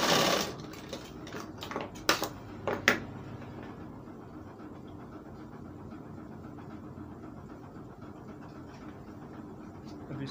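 A sewing machine stitches a kalidar kurta, giving a few quick sharp mechanical clicks and short runs early on. After that only a faint, steady background hum remains.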